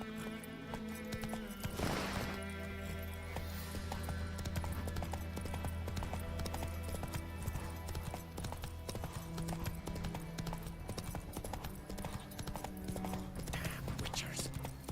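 Roach the horse trotting in The Witcher 3, steady clip-clop hoofbeats running throughout over game music and ambience, with a brief voice spoken at one point.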